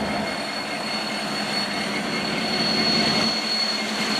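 Norfolk Southern freight NS 230, led by five locomotives with a Union Pacific SD70ACe in front, rolls past at Inman Yard with a steady loud rumble of wheels and a thin high squeal over the rails.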